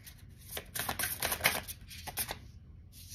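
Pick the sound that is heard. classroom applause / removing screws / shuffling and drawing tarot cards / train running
shuffling and drawing tarot cards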